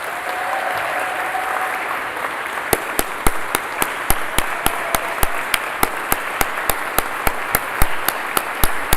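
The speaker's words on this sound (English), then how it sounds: "So we're going to give a big round of applause to everyone." An audience at a teaching excellence prize ceremony applauds its 2022 distinguished educators, with a steady wash of many hands clapping and a few loud, evenly spaced claps standing out near the front.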